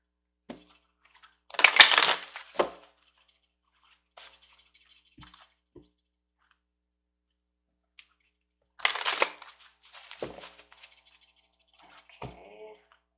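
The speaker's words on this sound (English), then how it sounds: "I'll take an oracle card" Oracle cards being shuffled in two short riffling bursts, close and fairly quiet, with scattered small taps and card handling between them and a brief soft voice near the end.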